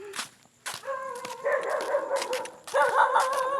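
Several dogs barking and yipping together, overlapping and fairly close, with whiny tones mixed in.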